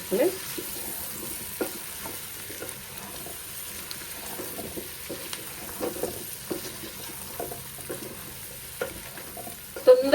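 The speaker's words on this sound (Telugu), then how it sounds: "ముందుగా కట్ చేసి పెట్టుకున్న గుమ్మడి ముక్కలను వేసేద్దాం వేసి ఇలా అంతా ఒకసారి" Cut pumpkin pieces are stirred around a frying pan for a pumpkin curry, producing scattered scraping clicks and light taps over a faint, low sizzle, with sharper knocks at the very end.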